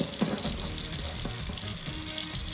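Forceful running tap water rinses blue crabs during cleaning before steaming, making a steady, close splashing hiss with faint clinks underneath.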